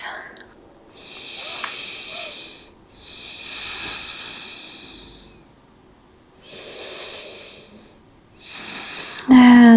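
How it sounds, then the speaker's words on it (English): Slow, deep breaths during a shoulder stretching exercise, long airy inhales and exhales alternating in a calm rhythm, close and fairly loud with a pause between breaths. "Two more deep breaths."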